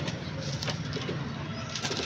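Rampuri cheena pigeon cooing softly in a steady, low murmur throughout, close by and continuous, with no talking.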